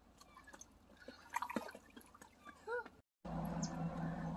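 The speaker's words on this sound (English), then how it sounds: "I am thrilled to be back on a lake shore and listening to the waves" Gentle waves lap at a lake shore in a soft, steady wash of water with small drips and splashes, close by and fairly quiet, briefly cut off near the end before resuming.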